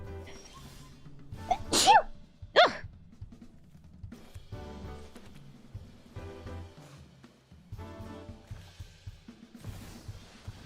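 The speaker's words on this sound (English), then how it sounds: "I think I'm gonna sneeze though." Two loud, sharp sneezes in quick succession, close by, followed by quieter background sounds.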